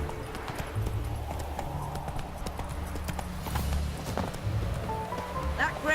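The horse Roach clip-clops along in The Witcher 3, steady hoofbeats continuing under ambient outdoor game sound and faint background voices.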